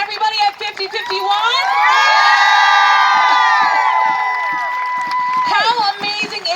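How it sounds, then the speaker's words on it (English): At a MayDay rally in Newton, New Jersey, a crowd cheers with loud, sustained whoops and shouts rising together, then breaking into scattered yells and claps. "Can we get an amazing round of applause for Birdie and everybody at 5051?"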